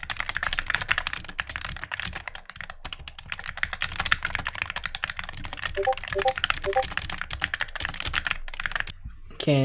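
Fast, continuous typing on a mechanical keyboard whose switches have been lubed, the close keystrokes clattering steadily, with faint background sounds from others in the house and a brief tonal blip near the end.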